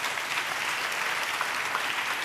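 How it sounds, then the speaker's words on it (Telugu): A congregation claps in praise during a Telugu church sermon, a continuous wash of many hands at moderate level, even and unbroken from start to finish. "యేసయ్యకు చప్పట్లు కొడుతూ స్తోత్రాలు చెప్తాం."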